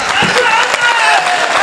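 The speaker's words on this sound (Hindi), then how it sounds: "जरा जोरदार तालियां हो जा" Audience applause at a comedy show at BHU, a dense continuous wash of clapping with no pauses, fairly loud and close throughout.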